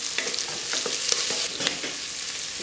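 Kodo millet and moong dal sauté in a pan, giving a steady, close sizzle of frying with occasional soft stirring scrapes and no voices.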